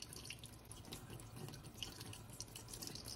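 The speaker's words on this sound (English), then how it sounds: "with very light running water, just rinse out any dirt that might be in there" Light running tap water trickles and splashes softly into a sink while zucchini flowers are rinsed, a faint, steady flow with small drips.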